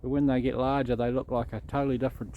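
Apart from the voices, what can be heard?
No everyday noises stand out.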